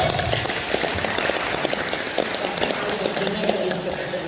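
An audience claps along at a comedy performance at a villa, a dense, fairly loud patter of hands with a few sharper slaps and some crowd voices mixed in.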